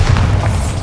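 A Bombarda spell explosion in Hogwarts Legacy, a loud, deep, sustained boom with heavy low rumble filling the whole moment.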